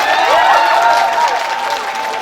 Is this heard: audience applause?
yes